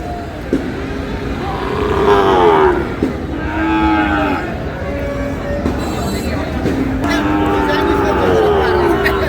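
Sahiwal bull calves and other cattle at a livestock market moo loudly and repeatedly at close range, with several long lowing calls overlapping, while people talk in the background.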